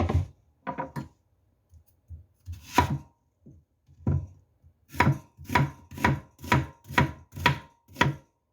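Onions are chopped with a knife for stir-fried fish cake: a few scattered cuts, then a steady run of about eight crisp, evenly spaced thwacks on the board, close and clear with no talking.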